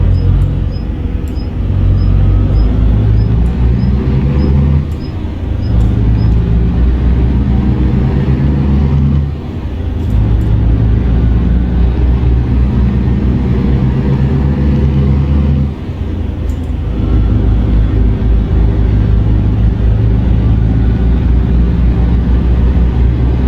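A truck engine drones loudly and steadily in Euro Truck Simulator 2, with revs rising and holding in long stretches broken by a few brief dips as gears change, close and continuous with no talk.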